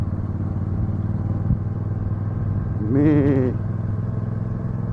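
Royal Enfield Super Meteor 650 twin-cylinder motorcycle fitted with Zard exhausts, a low steady idling rumble that swells briefly into a short throttle blip before settling back, heard close with a brief spoken word.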